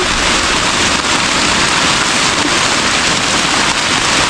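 Heavy rain pours steadily in a forest during a mushroom hunt, a dense, loud, unbroken hiss of drops hitting leaves and ground with no voices.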